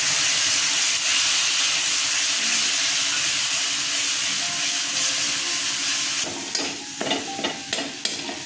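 Cooked dal being poured into a hot pan of oil and green chilli paste while making a traditional vegetarian Ashtami thali, giving a steady loud sizzle and hiss, then a few sharper spatters and clatters near the end.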